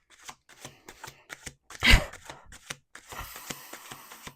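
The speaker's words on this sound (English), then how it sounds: "1 more shuffle." A deck of tarot cards is shuffled close up, with quick riffling flutters and taps, one louder burst in the middle and a brief rippling run near the end, no voices.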